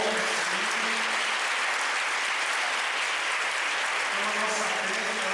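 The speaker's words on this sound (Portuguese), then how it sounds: "Quem veio nos visitar, então uma salva de palmas" A church congregation at a parish Mass applauds visitors with sustained, dense clapping that fills the space at an even level throughout.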